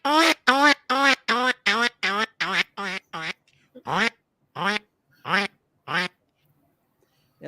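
A person imitates the quacking call of dabbling ducks such as mallards and teal, first in a fast descending string of about nine loud, nasal quacks, then four slower spaced quacks, up close with no other sound.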